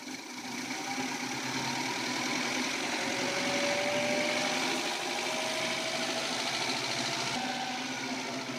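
An electric motor module running in fourth gear gives a steady, close mechanical hum and whir with a faint rising whine, continuous throughout with no talk.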